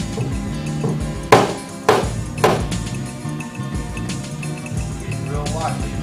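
Sharp metallic taps from a pick hammer knocking down high spots on car body sheet metal, three distinct strikes spaced about half a second apart over steady background hum.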